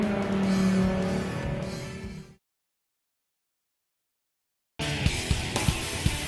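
Dodge Viper race cars battle on track at Miller Motorsports Park, engines roaring loudly before cutting to silence, then returning with sharp, punchy engine bursts and passing cars.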